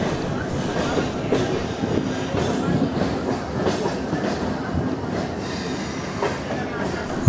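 A train rolls in towards Mysore railway station after crossing superfast trains, a steady loud rumble of wheels and carriages with faint rhythmic clatter and occasional squeal, continuous throughout.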